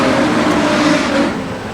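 Street stock race cars roar down the main straight at Redline Raceway during an Australian title heat, a loud, sustained engine drone that tapers slightly toward the end.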